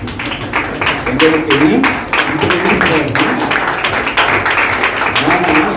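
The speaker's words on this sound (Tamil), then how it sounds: "பார்லிமெண்ட்ல எப்படி கைதட்டுறாங்க" A congregation at a deliverance ministry service clapping in a rapid, steady rhythm of sharp claps, mixed with someone speaking over it.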